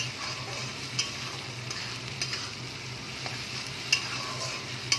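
Chopped tomatoes sizzle and fry in a pan, cooked down until soft, while a utensil stirs them with occasional light scrapes and taps against the pan, close and continuous, with no talking.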